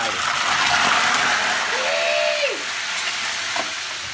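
Food stir-fried in a hot pan, a loud continuous sizzle with stirring and scraping throughout, close by, and a brief tonal squeak midway.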